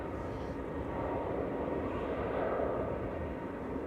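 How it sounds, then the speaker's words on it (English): An easyJet Airbus A319 arrives at Manchester Airport from Milan, giving a continuous moderate engine rumble and rushing whine that swells gently in the middle and then eases. "EasyJet coming in from Milan. Flight 1986, A319, OELQX."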